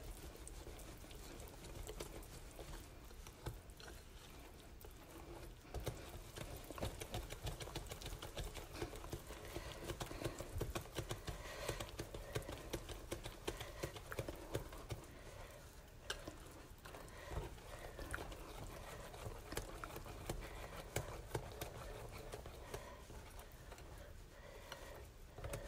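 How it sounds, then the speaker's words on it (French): Belgian waffle batter is whisked by hand in a bowl, giving a quiet, steady run of rapid ticking and scraping strokes that continues with small irregular bursts throughout. "Et voilà, je suis en train de mélanger."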